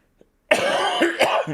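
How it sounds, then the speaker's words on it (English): A single harsh cough bursts out after a brief quiet, rough and close, with a second rasping push near the end. "we'll just wait until the coughing starts"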